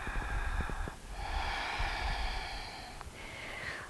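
Slow, audible breaths during a gentle yoga exercise, a long airy inhale followed by an exhale, close and fairly quiet with faint room noise.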